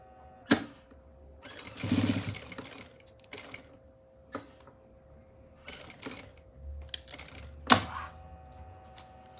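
A sewing machine stitches a fabric wallet in short, quiet bursts of rapid whirring separated by pauses, with occasional sharp clicks and handling taps in a calm room.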